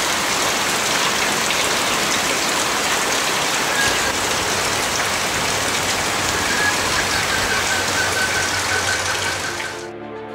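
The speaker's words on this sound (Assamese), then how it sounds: "এজাক সপোন সপোন লগা বৰষুণ" Steady, heavy rain pours down over cracked, drought-parched farm fields, a dense continuous hiss that holds evenly before cutting off abruptly at the very end.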